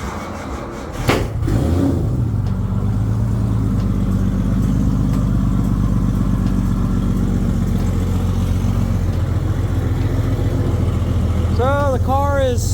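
A Nissan GTR R35 on air suspension cranks with a brief sharp start, then settles into a steady, loud, close idle with a deep rumble.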